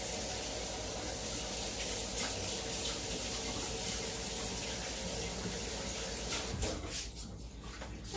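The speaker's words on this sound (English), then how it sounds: "I just realized I have to wash off my meat separator because I'm going to use it in the guac" Water runs from a tap while a meat separator is washed under it, a steady close hiss of flowing water that shifts and splashes near the end.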